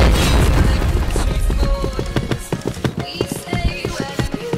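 Explosion in the shooter game PointBlank during a Turkish clan match, a heavy boom at the start followed by a string of sharp thuds and clattering impacts.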